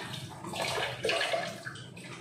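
Steady running water splashing during washing, a close continuous hiss and gurgle with small surges, no voices.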